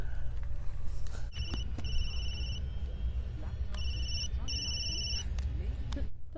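A flip phone rings in a movie scene, repeated electronic ring bursts in pulses over a low rumbling background, with voices talking under it.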